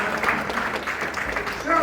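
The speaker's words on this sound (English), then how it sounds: "Please clap for me." Audience clapping at the VGMA National Music Summit at La Palm Royal Beach Hotel, a short burst of scattered hands with a voice talking over it and a swell near the end.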